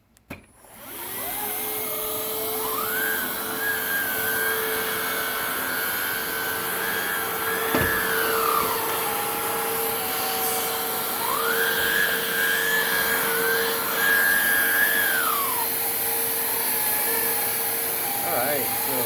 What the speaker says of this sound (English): So we should be able to vacuum the stairs.